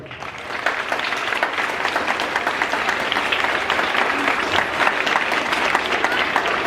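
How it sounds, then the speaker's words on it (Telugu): A school audience at a Christmas and Sankranti celebration bursts into loud, sustained applause for the students' parents, dense clapping filling the room steadily from start to finish. "అమ్మ నాన్నల కోసం ఒకసారి గట్టిగా క్లాప్స్ ఇవ్వాలి"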